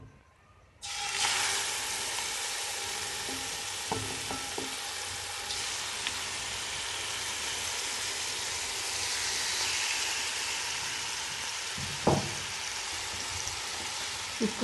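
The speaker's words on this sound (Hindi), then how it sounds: "इसको मैं फ्राई करूँगी।" Marinated chicken pieces frying in a spoonful of oil in a kadhai wok: a sudden onset of steady, even sizzling that carries on close by, with a few faint utensil clicks.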